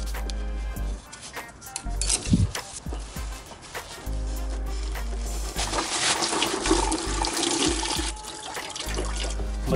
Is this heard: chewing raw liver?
no